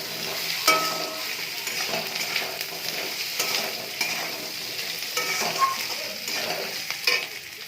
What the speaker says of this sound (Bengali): এটাকে দিয়ে একটু আলুটা ভেজে নেব